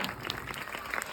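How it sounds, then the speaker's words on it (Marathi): Applause from a crowd of village women at a Khel Paithanicha game-show event, a brief dense burst of clapping that stays steady and fairly close. "जोरदार टाळ्या वाजवा"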